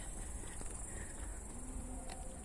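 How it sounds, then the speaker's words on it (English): A steady, high-pitched chorus of crickets chirps continuously in a ravine near a village in the evening, with faint outdoor noise beneath it. "You can hear the crickets,"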